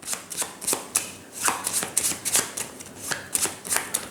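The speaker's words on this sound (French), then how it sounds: "Et le spectateur mélange." A deck of playing cards is shuffled by hand in a quick run of riffling, papery bursts, repeated several times in an uneven rhythm, close and clear with no talking.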